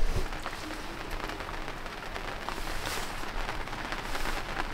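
Steady rain falls outdoors at a sailboat in harbour, a dense, even hiss of drops on surfaces continuing without pause and without voices.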